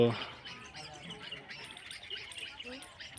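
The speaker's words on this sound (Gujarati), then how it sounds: "હજુ વાટ જોઈને બેઠા હે આ ચકલા હે" Sparrows chirp in a scattered flurry of quick tweets, some close and some farther off, as the birds wait to be fed snacks; a voice is briefly heard at the start.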